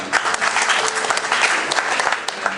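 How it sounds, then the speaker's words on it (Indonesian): Applause from the congregation at a church wedding ceremony, steady dense clapping throughout, moderately close and fairly loud, with no talk over it. "Berikan tepuk tangan."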